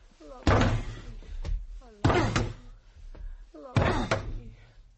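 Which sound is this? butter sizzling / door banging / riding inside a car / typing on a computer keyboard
door banging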